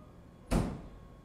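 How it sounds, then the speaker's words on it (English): A single solid thunk of a truck door slamming shut, close and brief, with a short rumbling decay into quiet. "you have a truck door sound effect"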